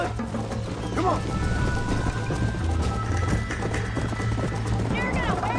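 Horse hooves galloping in the Western game Red Dead Redemption, a steady rapid clopping beneath loud shouting voices, with a neigh near the end.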